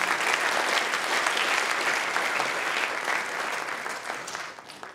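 A conference audience at a JavaScript event breaks into steady, dense applause that holds strong for several seconds before thinning out toward the end.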